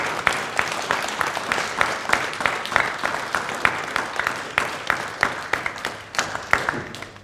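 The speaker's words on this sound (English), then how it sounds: "So if you can just put your hands together for a round of applause for Zain, please." Audience applause at a school awards ceremony, a crowd clapping steadily and fairly close with a dense rhythmic patter throughout, no voices over it.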